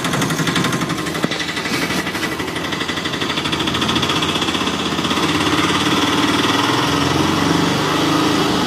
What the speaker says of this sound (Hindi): रघु बिना देर किए इंजन स्टार्ट कर देता है।